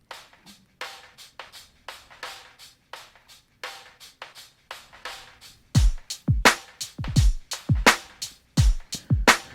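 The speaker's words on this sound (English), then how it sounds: "we've actually got a break layered over this" A hip hop drum beat with a sampled break layered over it plays alone as a steady run of crisp, clipped hits. Deep kicks join about halfway through and thicken the groove.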